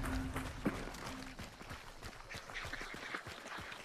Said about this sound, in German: Enten?